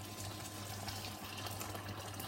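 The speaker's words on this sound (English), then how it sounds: "add some boiling water" Boiling water poured into a salted pan on a home kitchen hob: a quiet, steady splashing stream running throughout, with no voices.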